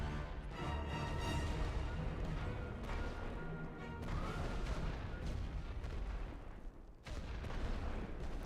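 Heavy artillery fire in the World War I trench strategy game The Great War: Western Front, with dense, continuous booming blasts and crashing impacts rolling on for several seconds and briefly dropping out near the end.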